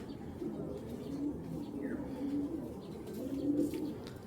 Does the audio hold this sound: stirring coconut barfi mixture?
no